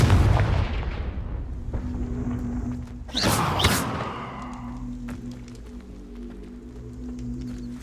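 A Confringo blasting curse in the wizarding game Hogwarts Legacy: after a low rumble and a faint hum, one sharp bright blast cracks out with a short fiery whoosh and a thud, followed by small scattered clicks over a steady background drone.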